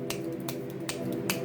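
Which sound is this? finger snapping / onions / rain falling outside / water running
finger snapping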